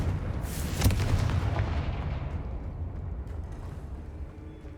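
A Confringo explosion spell cast in Hogwarts Legacy, a heavy booming blast with a sharp crack followed by a long rumbling decay, loud and close.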